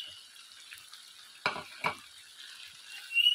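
Spices being stirred into frying chicken biryani, a faint sizzle broken by two sharp scraping strokes of a ladle against the pot, then a rising hiss.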